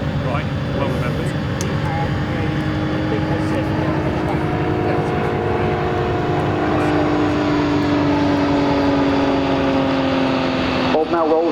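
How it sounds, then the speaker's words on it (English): An aerobatic propeller plane at an air show drones loud and steady as it climbs and stall-turns, engine note shifting gradually, with a commentator talking over it. "Bob now rolls 90 degrees while pointing straight up before completing a stall turn at almost 0 airspeed"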